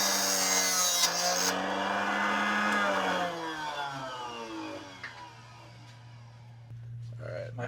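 A power cutter trims an arrow shaft to length for an outdoor barebow build, making a loud, close, whining hum that slowly winds down in pitch as the blade spins down.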